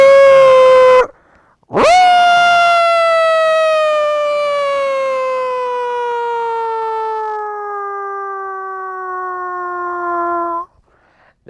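A human voice imitates a Federal Q fire engine siren: a long, loud wail that drops briefly, then swoops up sharply and winds down slowly over about nine seconds, with no talking.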